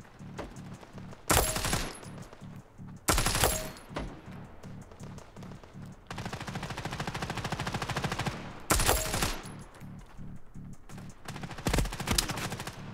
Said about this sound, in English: He was shooting from the side.